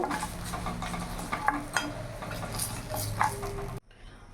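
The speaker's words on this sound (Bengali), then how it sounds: "বেগুনগুলো লাল লাল করে ভেজে নেব" Salted, turmeric-dusted eggplant pieces fry in hot oil with a steady sizzle, punctuated by a few light utensil clinks against the pan, then the sound cuts off abruptly near the end.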